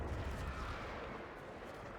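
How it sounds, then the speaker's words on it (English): Heavy Macross cannon fire in Warframe during a trench battle, a dense low rumbling barrage of blasts that stays loud and steady throughout. "That was the old Macross cannon."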